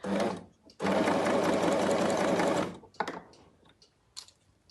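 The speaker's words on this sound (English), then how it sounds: "if it's not sewing on the binding, just move it towards the needle" A sewing machine runs in a steady, loud burst for about two seconds while stitching tape binding onto a garment, then stops, followed by a few short handling clicks and quiet rustles.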